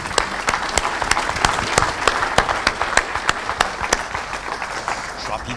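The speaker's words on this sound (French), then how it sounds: "je vais vous demander d'applaudir les deux écoles" Audience applause rewarding two schools of firefighter trainers at a forest-fire tactics training event, steady dense clapping with sharp individual claps standing out, filling the room at moderate loudness without pause.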